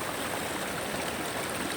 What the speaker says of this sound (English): I am at the creek now